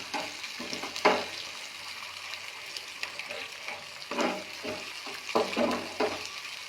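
Two eggs fry in a pan with chopped green chili, a low, constant sizzle broken by repeated scraping stirs of a spatula, close and moderately loud, with no talking.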